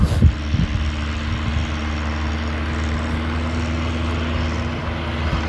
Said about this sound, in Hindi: सामने आमदे हुए ट्रैक्टर